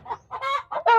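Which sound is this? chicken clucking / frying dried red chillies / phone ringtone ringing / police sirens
chicken clucking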